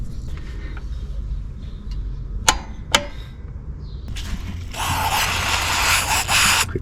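Two sharp metallic clicks ring out close by as a wrench tightens the oil drain plug on a 2008 Smart Fortwo over a low garage hum, then a loud steady spray hiss follows.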